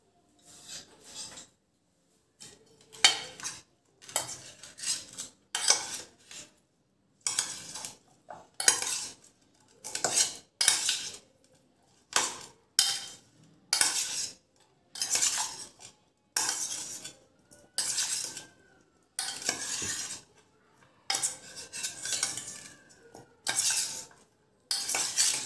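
Chopped vegetables are mixed with turmeric in a bowl, heard as repeated bursts of close scraping and spoon-on-bowl clatter separated by short pauses, with no talk.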